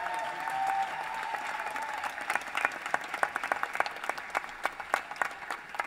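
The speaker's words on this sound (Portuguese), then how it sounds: "Uma salva de palmas." A festival audience of student music groups applauds, scattered claps thickening into a loud, dense round of clapping from a crowd.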